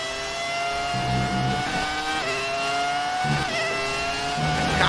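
A Ferrari race car engine in the F1 2019 video game, Schumacher's car driven at an event, revving loud and steady with rising and falling pitch through gear changes, no talk over it.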